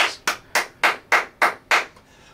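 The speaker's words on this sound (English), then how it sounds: "Let's give the Lord a hand clap of praise." Seven sharp, evenly spaced hand claps ring out in unison as a church congregation gives a clap of praise. They are loud and close, and the last one is followed by a brief quiet tail.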